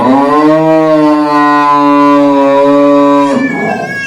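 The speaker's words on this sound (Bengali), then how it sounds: "গরু হাম্বা করতেছে" A cow at a nearby cattle farm lets out one long, loud, droning moo close by, lasting several seconds before trailing off.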